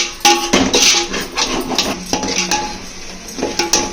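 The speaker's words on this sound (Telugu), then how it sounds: "అన్నిటిని బాగా కలిపెడుతున్నాను" A spoon scrapes and clinks against a metal bowl in quick, uneven strokes as yogurt and spices are mixed for chicken biryani.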